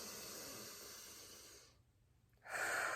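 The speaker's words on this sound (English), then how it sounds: "let me just take a breath here" A long, soft, hissing breath drawn in and held, then released in a second rush of air, close and quiet with no talk.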